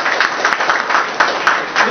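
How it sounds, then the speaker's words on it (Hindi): Seminar attendees applaud in a hall, loud mixed clapping with rhythmic bursts standing out from the crowd, lasting under two seconds. "इसके लिए जोरदार तालियां सबके लिए"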